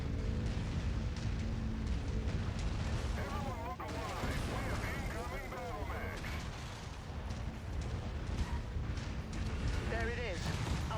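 Autocannon fire in the MechWarrior 5: Mercenaries video game, dense booming shots and mechanical clatter forming a constant loud barrage, with a voice talking over it.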